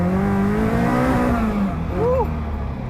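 A Caterham Seven 620S sports car on a twisty road, its loud engine droning steadily and close with a rising then falling pitch as it accelerates and shifts, with a brief voice partway through.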